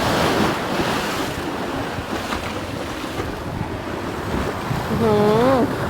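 Sea waves break on the shore in a steady, loud wash of surf, with wind buffeting the microphone throughout and a voice speaking briefly near the end.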